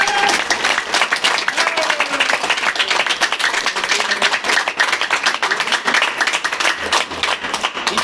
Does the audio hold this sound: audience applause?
yes